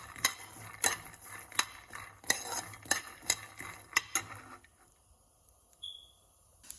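Peanuts dry roasting in a pan for idli and dosa chutney, stirred with a utensil that scrapes and clinks against the metal in a steady run of sharp strokes, then falls quiet near the end.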